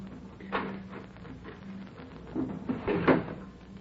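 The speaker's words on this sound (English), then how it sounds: "Open those doors." Doors being opened in an old radio mystery drama, a close wooden clatter and creak with a couple of knocking bumps, over a low steady hum.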